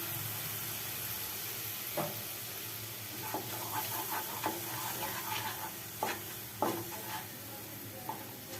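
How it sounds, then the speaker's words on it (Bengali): Spice paste fries in oil with a splash of water for an elephant-foot-yam curry: a continuous soft sizzle broken by sharp, scattered clicks and scrapes of a spoon stirring against the pan, close and moderately quiet. "মশলার মধ্যে একটুখানি সামান্য জল দিয়ে দেবো যাতে মশলাটা ভালো মতন কষে যায়"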